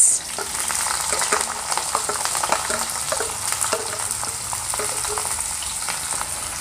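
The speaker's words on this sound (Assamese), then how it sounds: "এতিয়া ইয়াতে দি লৈছোঁ ডালচেনি, লগতে ডাঙৰ ডাঙৰকৈ কাটি থোৱা দুটা মিডিয়াম আকাৰৰ পিঁয়াজ" Cinnamon and two medium onions, roughly chopped, fry in hot oil in a pan, a steady close sizzle broken by frequent utensil scrapes and clicks as they are stirred, with no talking.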